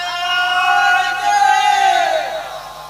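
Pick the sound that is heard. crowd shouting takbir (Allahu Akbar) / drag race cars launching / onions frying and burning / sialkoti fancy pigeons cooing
crowd shouting takbir (Allahu Akbar)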